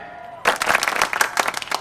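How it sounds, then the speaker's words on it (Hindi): A crowd of listeners breaks into applause after a brief tone, with rapid, dense clapping that rises suddenly and carries on loudly. "अरे तालियां रोकिए, तालियां आगे के लिए बचा कर रखिए"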